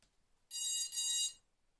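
Two long electronic beeps in quick succession from a faulty HK v2.1 quadcopter control board, high-pitched and tonal with bright harmonics, fairly close, then silence.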